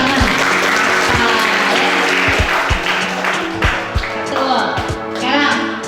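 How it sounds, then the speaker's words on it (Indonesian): Applause rises from a classroom audience, likely children, during a school lesson, steady and fairly loud with sharp individual claps standing out, while voices chatter underneath. "Terima kasih, tepuk tangan."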